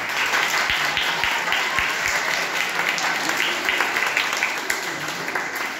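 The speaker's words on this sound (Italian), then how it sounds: "un bel applauso." An audience at an event in Parma Lands applauds warmly, with a few sharp, distinct claps standing out early against the steady clapping, which eases slightly toward the end.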